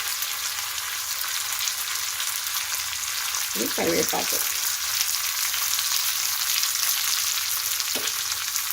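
Curry leaves frying in a pan for tempering, a steady close crackling sizzle throughout, with a brief murmured voice partway through and a faint clink near the end.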